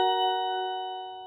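A single chime from a Xiaomi Smart Doorbell 2 indoor speaker, a clear sustained electronic ding-dong tone ringing on alone and slowly fading over about a second.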